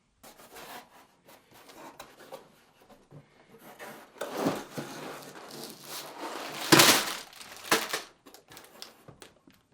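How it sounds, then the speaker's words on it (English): Cardboard packaging of the LEGO Star Wars 7962 Anakin's & Sebulba's Podracers set being unsealed and opened, with soft scraping, rubbing and crinkling close by that builds to a sharp tear near the end, then scattered light handling. "Now it is time to unseal the set."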